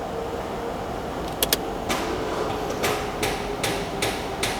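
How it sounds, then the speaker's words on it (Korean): A dead-battery Mercedes-Benz S-Class with 208,000 km fails to start, giving a few sharp clicks and knocks at irregular intervals over a steady background hum. "배터리가 없어서 시동이 안 걸려."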